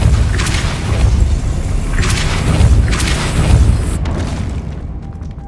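In the Hogwarts Legacy video game a Depulso spell is cast, and three booming bursts land about a second apart over a loud rumbling background before the sound cuts off.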